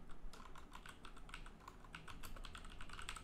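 Steady, quick typing on a computer keyboard, with close, crisp key clicks in an uneven rhythm throughout and no talking.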